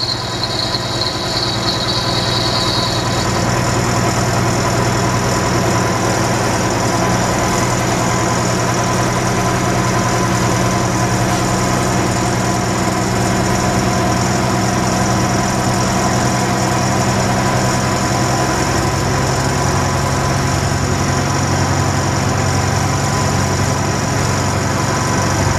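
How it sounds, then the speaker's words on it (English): A loud, continuous diesel truck tractor engine idles close by while building air brake pressure, with a steady low rumble and rattling vibration throughout. "start my engine up, build my air pressure back up to about 100."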